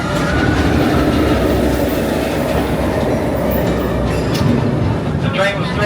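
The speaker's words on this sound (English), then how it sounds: "Hop aboard the train here." Amusement park train at Kings Island rolling along its rails, with a continuous close rumble and clickety-clack of wheels, occasional faint squeals and voices underneath.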